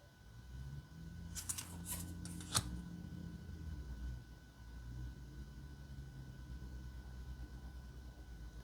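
A mini rune card deck being shuffled, a few quick crisp riffles close up in a quiet room, lasting a couple of seconds before falling back to faint background hum.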